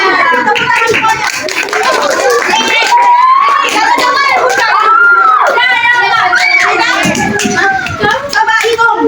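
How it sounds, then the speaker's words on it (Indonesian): Schoolchildren in an elementary classroom clap together in a loud burst of applause, mixed with excited shouting and chatter from the class, the clapping fading back into noisy voices. "Tepuk tangan semuanya."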